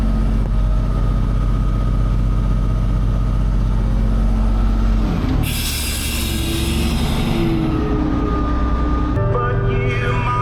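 A Caterpillar 637C scraper's diesel engine runs steadily and loud throughout, a broad continuous rumble that surges and shifts partway through as if revving, with no talk over it.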